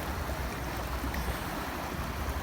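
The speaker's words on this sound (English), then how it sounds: "Here's the ocean" Pacific Ocean waves, a constant broadband rushing wash of water heard up close, steady and loud throughout with no distinct breaks and no voices.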